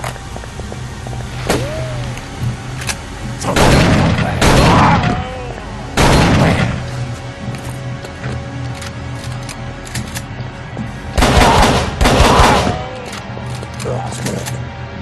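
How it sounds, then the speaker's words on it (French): Gunfire in the horror game Call of Cthulhu, several loud bursts of rapid shots in separate volleys against a humming background, with quieter clicks and mechanical sounds between them. "j'ai tiré par instinct"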